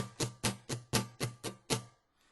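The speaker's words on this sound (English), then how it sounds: "we'll strum the strings without any chord" Seven quick muted guitar strums in an even rhythm, each a dry percussive scratch of deadened strings with no pitched chord, then silence.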